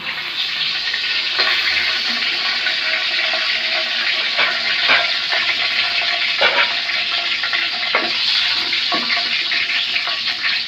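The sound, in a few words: whole spices sizzling in hot oil in a pot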